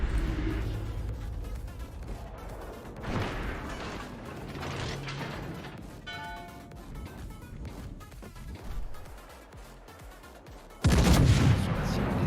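Main guns of the Daisen, a Japanese battleship in a naval video game, firing shells with heavy booms and mechanical turret clanks and ratcheting, ending in a loud close salvo.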